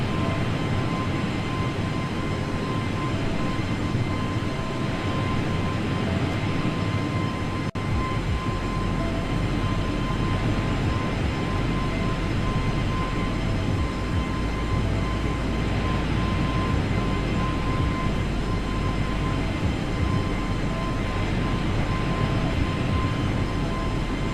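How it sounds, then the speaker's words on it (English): An easyJet airliner in a flight simulator game roars with a loud, constant engine drone that stays unchanged from start to finish, with no talking. "Thinking about it, this plane is quite loud."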